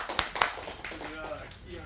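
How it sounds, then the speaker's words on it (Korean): A couple of sharp claps, then softer scattered clapping, with people talking underneath, from a lecture audience. "박수."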